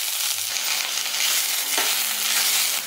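Finely chopped brinjal pieces drop into hot oil already crackling with mustard seeds, cumin and curry leaves, giving a steady broadband sizzle with a brief sharper burst as they land, close and continuous with no talking.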